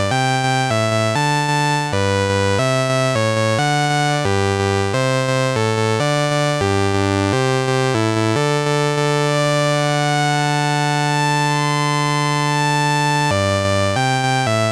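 Erica Synths Black Wavetable VCO Eurorack oscillator playing a wavetable that produces stacked intervals, rich and buzzy sustained tones that step between notes in a steady pattern, loud and alone, sounding like several oscillators at once.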